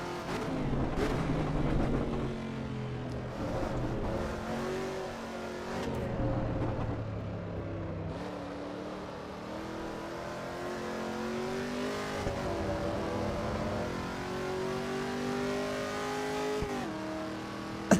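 A race car engine revs hard through a fast lap in Assetto Corsa EVO, rising and falling with gear changes and climbing in pitch along the straights, close and steady with brief tire squeal and no talking.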